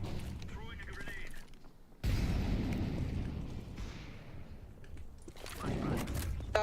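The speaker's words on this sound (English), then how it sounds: "Throwing a grenade." A loud rumbling blast from a grenade in a video game erupts suddenly after quieter moments, rolls on for nearly two seconds and fades into game noise as voices talk nearby.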